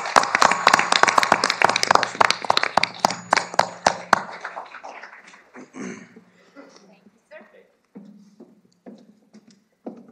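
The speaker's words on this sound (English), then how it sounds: "I'd like you to give a big round of applause to our wonderful Provost and Dean of the Faculty, Sandra and Afanito" An audience at a university event on environment, climate and national security applauds loudly for the provost and dean, dense clapping for about four seconds that thins into scattered claps, with a voice speaking as it fades.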